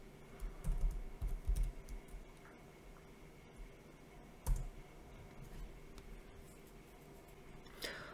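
Computer keyboard typing in quick, light clicks, clustered at the start and sporadic afterward, heard alone at a quiet level with a faint steady hum beneath.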